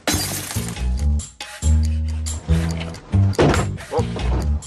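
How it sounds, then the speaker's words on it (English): Glass shatters in a series of loud, close cracking and breaking impacts as a car mirror is smashed during a driving road test, several repeated blows mixed with tonal clunks and short bursts of noise. "Oh, I smashed the mirror."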